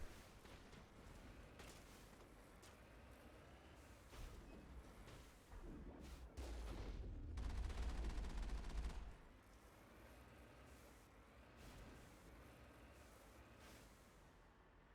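Gunfire erupts in a Mass Effect firefight: a mix of dull bursts and rattling shots from enemies, quiet overall, swelling into a heavy volley in the middle before settling back.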